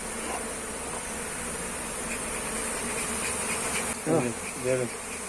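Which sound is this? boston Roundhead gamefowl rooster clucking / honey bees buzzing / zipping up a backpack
honey bees buzzing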